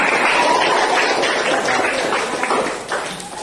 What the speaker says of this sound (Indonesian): Nah, tepuk tangan untuk teman kita.